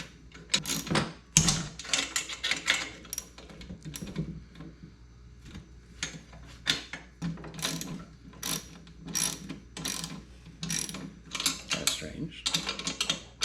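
A ratchet wrench clicks rapidly in repeated bursts while tightening bolts on a Harbor Freight tire changer during assembly, close and crisp, with short pauses between runs of ratcheting.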